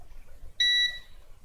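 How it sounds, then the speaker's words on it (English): A multimeter emits a single short, clear electronic beep when probing a short to ground on an iPhone 7 boost circuit, sounding alone against a quiet background. "when it beeps, you have a short to grounds"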